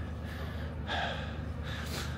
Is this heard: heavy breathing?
yes